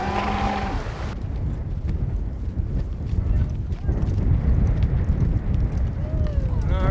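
Horses ridden while pushing cattle on a ranch, with steady hoof clip-clop and rustling movement running throughout at close range, a voice speaking briefly at the start and a faint squeal near the end.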